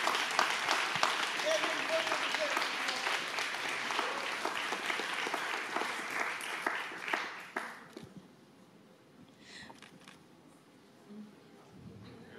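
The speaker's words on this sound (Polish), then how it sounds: "Brawa!" Audience applause at an awards gala in Stary Maneż, Gdańsk: dense, loud clapping from a large crowd for about eight seconds, then abruptly thinning to scattered claps and quiet room murmur with faint voices.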